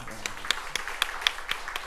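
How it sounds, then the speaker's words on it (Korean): A church congregation at a dawn prayer service claps in a steady, rhythmic beat of crisp hand claps, about four per second, with voices mixed in underneath. "축복의 박수 한번 할까요?"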